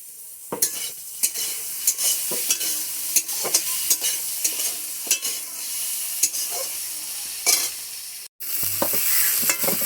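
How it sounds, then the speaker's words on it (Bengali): Dried fish fries in a pan, a steady hiss of oil punctuated by regular sharp scrapes and clinks of a utensil against the pan, close up, with a brief break before the sizzle resumes. "তো বন্ধুরা, মাছটা ভাজা হয়ে গেছে"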